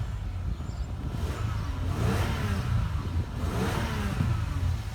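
A 2001 Toyota Sienna XLE with a bad O2 sensor and the check engine light on, its engine humming steadily nearby as it revs up and eases back twice in smooth swells, with no voices.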